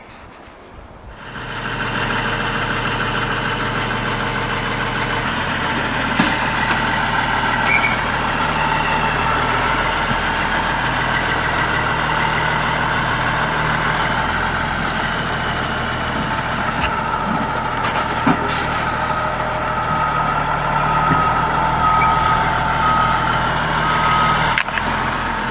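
A truck delivering a shipping container runs with a steady engine drone and a few faint reversing beeps over its continuous rumble, heard up close with no talking.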